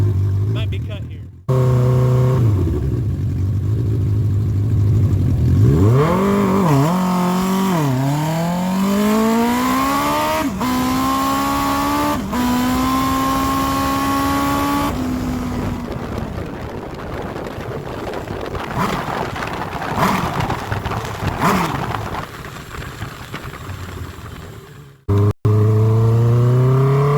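A vehicle's first drag-strip pull with a bad, slipping clutch that wheelies hard: a loud engine revs and climbs in pitch through a long acceleration, then fades into wind and road noise before cutting off abruptly.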